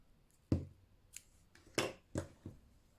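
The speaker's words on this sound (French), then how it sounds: "Je coupe le fil." Scissors snip crochet yarn in a few quiet, close, sharp cuts spaced irregularly, against a near-silent background.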